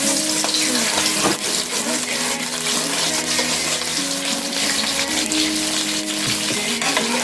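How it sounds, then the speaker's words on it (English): Garlic and scallion frying in oil for chicken fried rice give off a steady, close sizzle that runs unbroken and fairly loud from start to finish, with no voices over it. "I'm just going to put a little bit of garlic inside of the oil, and also a little bit of scallion"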